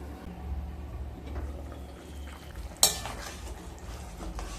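A spoon stirs a thin katla fish curry with potato and drumsticks in a pot, a quiet, steady scraping and sloshing with one sharp clink partway through.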